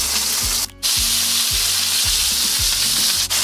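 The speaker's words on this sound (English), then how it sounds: "still just searing all the edges, all the outsides of this steak" A steak sears in a hot cast iron pan with a loud, continuous close-up sizzle, a brief dip midway and a few low knocks from the pan, with no talking.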